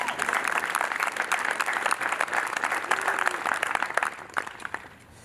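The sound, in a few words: applause at graduation ceremony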